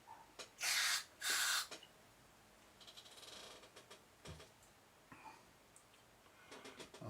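Short bursts from an aerosol spray can hiss into a Hiwatt guitar amplifier chassis, two loud blasts close together, followed by faint clicks and handling noises of the work.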